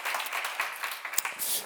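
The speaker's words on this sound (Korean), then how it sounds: "박수 한번 쳐줘요." A church seminar audience gives a short burst of applause, a dense patter of hands lasting under two seconds, heard fairly close and alone.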